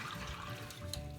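Water running from a tap fills a large cooking pot for pasta, a steady close splashing gush lasting just over a second with no talking.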